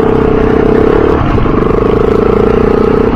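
A trail motorcycle fitted with an Akrapovic exhaust system runs close by, its steady throbbing engine note holding for the whole stretch with only a slight dip partway through, and nobody speaking.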